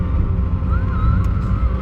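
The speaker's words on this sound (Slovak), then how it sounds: "Ten kamión." A truck passes on the road in oncoming traffic with a broad rumbling roar that swells slightly mid-pass, fairly loud and near, with no talk over it.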